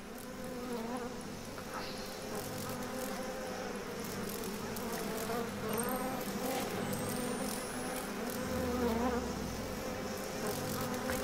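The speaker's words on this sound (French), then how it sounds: "t'en veux des sauterelles?" Dense swarm of grasshoppers in the video game Outlast 2 buzzes continuously, a thick insect drone with rising and falling whine that fills the scene at steady loudness with no pauses.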